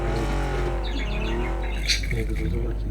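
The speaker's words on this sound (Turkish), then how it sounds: "Egzoz titriyor bak gaza basınca." A car engine revs in the PUBG video game with its exhaust shaking, giving a steady droning hum whose pitch rises and falls, while a person talks over it.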